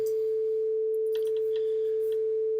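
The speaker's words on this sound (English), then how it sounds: "Our carrier sine wave at 440 Hertz." A pure 440 Hz carrier sine tone from a synthesizer patch holds perfectly steady and alone, with only a few faint clicks and rustles partway through.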